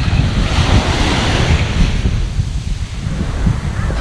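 Ocean waves breaking on a beach with restaurants and beach chairs nearby, a loud continuous wash of surf mixed with wind buffeting the microphone, no talking.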